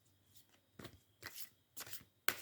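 Large oversized cards being shuffled by hand: several soft riffling bursts at an uneven rhythm, close and fairly quiet, ending in a sharp snap with no talking.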